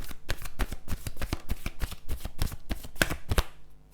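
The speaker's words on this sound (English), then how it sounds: "Let's take an oracle card for you." A deck of oracle cards is shuffled by hand in a rapid run of crisp riffling snaps for about three and a half seconds, close and clear, with no voices.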